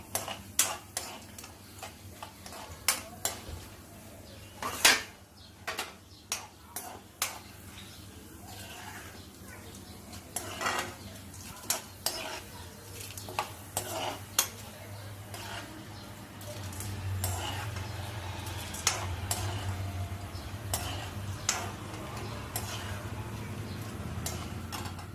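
Tempering spices fry in a pan for sabudana khichdi, giving sharp, irregular pops and crackles close by over a soft, continuous sizzle that thickens toward the end.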